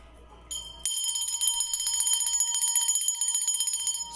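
A small hand bell rung repeatedly for spiritual cleansing, its bright, sustained metallic ringing building quickly after a quiet start and continuing in a steady, shimmering series of strikes, close and alone.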